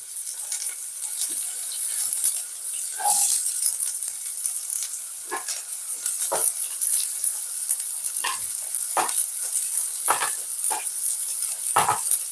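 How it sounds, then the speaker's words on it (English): Chopped onion sweating in a soup pot with pimento berries, giving a soft, steady high sizzle broken by scattered scrapes and taps of stirring, close and with no voices. "I'm just going to sweat off my onion a bit."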